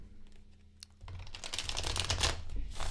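Tarot cards are shuffled in a steady, dense riffling and rustling that starts after a quiet second and continues close up, with no talking.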